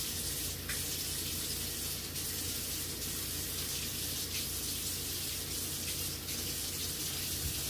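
A tap runs steadily into a sink while a shirt is rinsed under it, giving a continuous splashing gush with occasional sloshes, close and moderately quiet.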